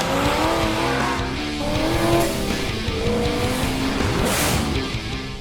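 A supercharged fifth-generation Chevrolet Camaro with a ProCharger accelerates hard in sport mode and third gear: a loud, rising engine roar with whining tones that sweep upward, tires squealing along with it, and no talking.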